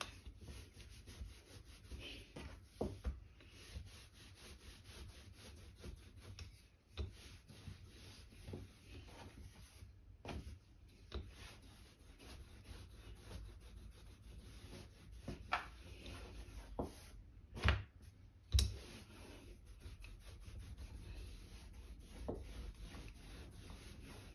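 A rolling pin works floured pastry dough for tuna pastels on a wooden surface, giving a steady, close rubbing and rolling sound with a few sharper knocks and brief pauses between strokes.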